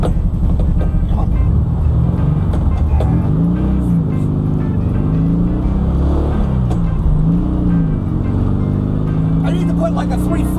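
A 1972 VW Super Beetle with freshly rebuilt rear brakes rumbles along on a short test drive, its air-cooled engine droning and rising and falling through gear changes, heard from inside with someone talking over it.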